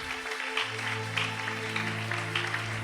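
Congregation clapping and cheering at a church revival gathering, a steady wash of many hands with voices and organ-like sustained tones underneath, fairly distant and even throughout.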